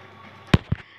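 Two sharp firework bursts in a Minecraft survival world, a loud pop followed quickly by a second, softer one, alone over a low hum.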